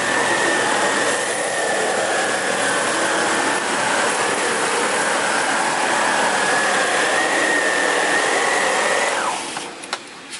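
A SEBO K3 canister vacuum cleaner sucks up sand from carpet with a loud, steady whine and airy roar that holds for about nine seconds before the motor cuts off and winds down.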